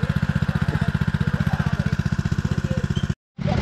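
Go-kart engines idle and putter at the start of a race, a rapid, steady, close mechanical throb that cuts out briefly near the end.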